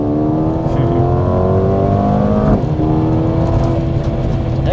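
A Mercedes-AMG A35 engine with a petrol particulate filter revs and holds at high RPM, steady and loud, with a brief dip midway before climbing again.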